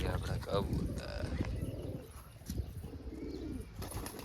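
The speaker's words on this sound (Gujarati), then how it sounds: "અને આ છે આપણા કબૂતર" Pet pigeons cooing nearby in a soft, low, rolling murmur over a busy background, with voices talking faintly at times.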